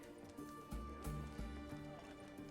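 Horse hooves gallop in The Witcher 3 video game, a steady run of repeated thudding hoofbeats over a continuous game music bed, moderately loud and close.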